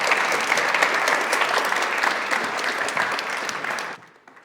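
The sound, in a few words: audience round of applause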